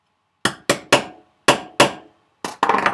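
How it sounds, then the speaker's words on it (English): Hammer taps on a milled double-sided PCB, struck through a flat-ended tool: seven sharp, close knocks with short ringing decays, spaced irregularly, the last few quick and clustered, with no talking. "And then you can use a hammer."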